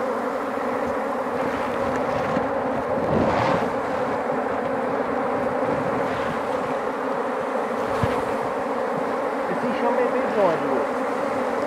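A dense, steady buzz of a bee swarm at an old hive during a Cerrado honey harvest fills the scene, droning continuously at moderate volume with a few brief louder passes near the listener.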